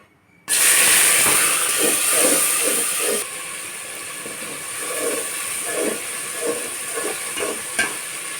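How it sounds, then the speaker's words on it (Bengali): Thick spiced paste of ground garlic, onion, ginger, green chili, dried chili, salt and turmeric poured into a hot pan, loud hiss and sizzle bursting in then settling to a steady frying crackle with soft stirring scrapes. "মশলাটাকে ঢেলে দেব।"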